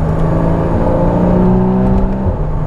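A 2023 Porsche 718 Boxster GTS 4.0 engine drones steadily from inside the car while driving, a loud continuous hum with the pitch rising slightly, then falling off near the end.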